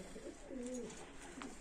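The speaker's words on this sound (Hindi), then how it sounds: "और ये एक कबूतर है" A single male pigeon gives a soft, low coo nearby at a kennel in an otherwise quiet setting.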